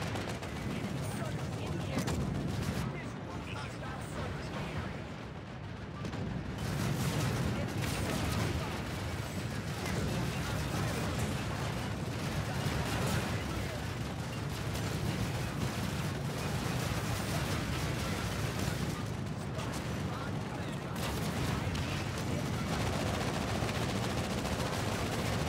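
Dense, continuous vehicle gunfire from a Colossus in the video game PlanetSide 2 rattles on for the whole stretch as a loud, unbroken barrage mixed with other battle noise.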